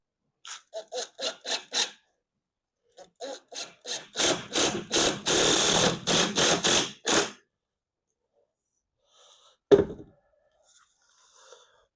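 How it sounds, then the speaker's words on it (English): A cordless drill drives screws into battens on a van floor, with short whirring bursts in a quick series, then a longer sustained run of pulses before a pause and a single clunk. "I've got my drill, got my screws"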